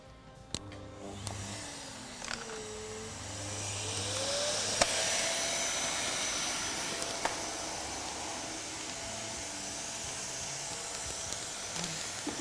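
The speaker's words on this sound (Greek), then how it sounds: "Και προσαρμόζουμε τώρα την ηλεκτρική σκούπα." A vacuum cleaner sucks the air out of a duvet storage bag with a loud, continuous whooshing hiss and a motor whine whose pitch slides up as it runs, with a few small clicks.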